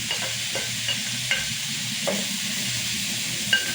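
Garlic and onion sauté in a hot pan for adobong sitaw with pork, giving a loud, constant hiss and sizzle broken by a few soft spoon taps and scrapes, close up with no speech.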